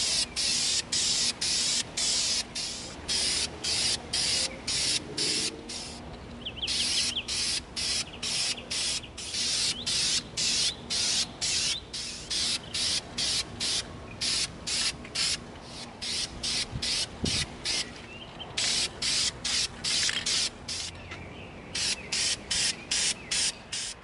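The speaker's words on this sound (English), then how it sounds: "We're going to coat our drum gun with our satin black." Repeated bursts of satin black aerosol spray paint hissing close by onto an EVA foam prop gun, short presses in steady rhythm with brief gaps, continuing for the whole stretch with no talking.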